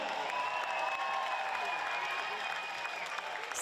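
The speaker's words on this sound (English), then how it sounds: "Be nice to get a round of applause like that every time you step on the floor, isn't it?" Spectators at a WNBL women's basketball game applaud Abby Bishop as she returns to the court, a steady wash of crowd clapping and murmur heard from a distance under a commentator's voice.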